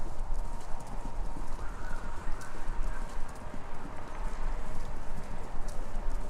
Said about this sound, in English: Sounds like horses? Horses running? A race?